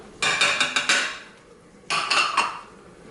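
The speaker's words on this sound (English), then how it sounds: "We're gonna stir in the paprika" Paprika stirred into a pot of chili, two bursts of scraping, clinking spoon-against-pot strokes close by with a short pause between, no talk.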